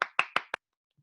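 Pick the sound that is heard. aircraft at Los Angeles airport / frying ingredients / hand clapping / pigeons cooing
hand clapping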